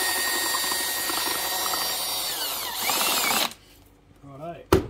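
A power drill spins a bent wire paddle to mix primer for a hull panel on a Tiki 30 boat, giving a steady whirring drone for about three seconds before stopping, followed by a brief clatter.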